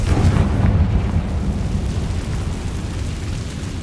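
A Confringo blasting spell explodes in Hogwarts Legacy, opening with a heavy low boom that rumbles and slowly fades into a steady roar, close and loud with no talk over it.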